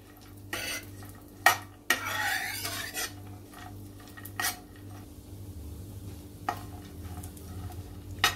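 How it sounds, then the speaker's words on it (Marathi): Dry fruits and raisins stirred and fried in ghee in a pan, quiet sizzling with intermittent scraping and clinking strokes of a spoon against the metal, close and soft with no talking. "असं तुपावरती चांगले परतून घ्यायचे ड्रायफ्रूट"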